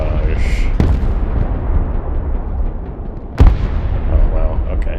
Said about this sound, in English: There's a creeping barrage.